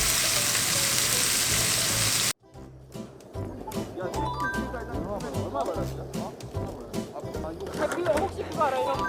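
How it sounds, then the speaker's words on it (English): Chicken sears in a hot pan for spicy chicken stew, a loud steady sizzle that breaks off into scattered spitting and crackling with clinks of stirring, close by. "Now that we've got a good sizzle and a good sear, we're gonna add the seasoning."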